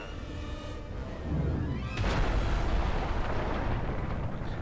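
An explosion erupts in Destroy All Humans! 2 Reprobed, a sudden loud blast after a brief whooshing build-up, followed by a sustained crackling roar that stays strong to the end.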